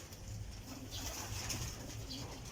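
Racing pigeons in a loft give soft, low cooing, a faint, continuous murmur of several birds with no talking.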